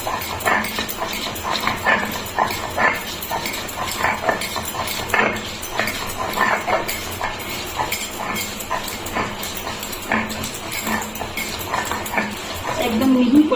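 Pumpkin leaves being ground on a sil-nora stone, a continuous rough rhythmic scraping and rubbing of stone on stone, fairly close and loud, with a voice speaking over parts of it.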